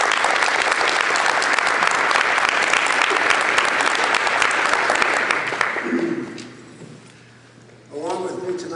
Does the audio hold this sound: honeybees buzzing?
no